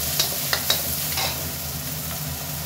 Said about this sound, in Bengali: দিয়ে দিচ্ছি কাঁচামরিচ, একটু নাড়াচাড়া করে নিই।